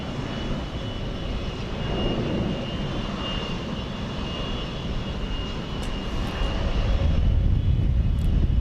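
A United Airlines jet airliner departs Houston Intercontinental, a steady broad engine roar that swells and grows louder toward the end, with no voices over it.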